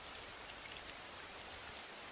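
Steady rain falls outside a building with rain-slicked steps, a dense, even hiss of drops with no pauses and no voices.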